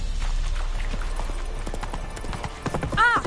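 Roach, the horse ridden in The Witcher, clip-clops at a quick galloping pace with steady hoofbeats throughout and a short whinny near the end, heard alone without talk.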